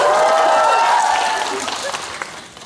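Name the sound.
audience applause at cinema event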